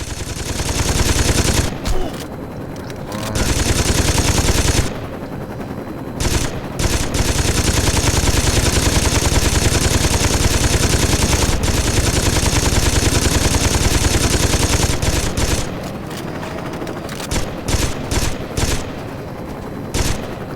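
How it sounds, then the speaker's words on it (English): Loud, nearly continuous machine gun fire in the Saints Row 2 video game, long sustained bursts broken by brief pauses and a flurry of short volleys near the end. "Can't see where they're shooting from, and I can't see much else."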